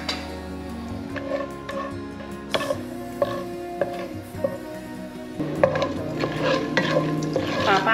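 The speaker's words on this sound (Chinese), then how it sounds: "把八角和桂皮的香味炒出来" Star anise and cinnamon stir-fry in a pan for a sauce, with a spatula scraping and clinking against the metal in irregular strokes over a low sizzle that grows busier toward the end.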